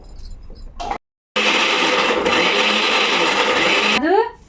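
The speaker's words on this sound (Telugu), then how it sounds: "ఈ కొబ్బరి ఇది బాగా మెత్తగా పేస్ట్ చేసేసుకోవాలి" A mixer grinder whirs loudly and steadily while grinding coconut into a smooth paste for a curry, stopping briefly after a short start, then running on before winding down at the end.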